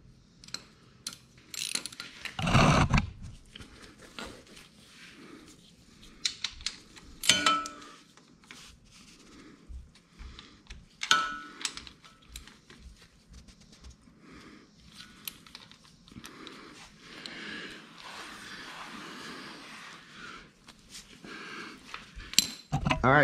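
Ratcheting wrench clicks in short bursts as the drain bolt is tightened on the oil drain bowl under a Suzuki TU250X motorcycle, close and fairly quiet, with occasional metallic clinks of tools.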